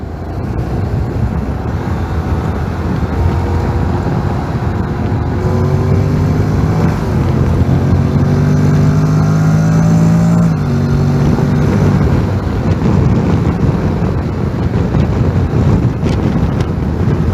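Steady, loud wind buffeting on the rider's helmet while riding a 2025 Honda NC750X DCT motorcycle in traffic, with a low engine drone underneath that shifts in pitch midway.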